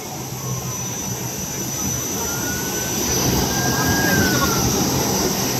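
SpiceJet passenger jet taking off, its jet engines giving a steady, broad roar that swells slightly louder toward the end, with a thin high whine riding over the top.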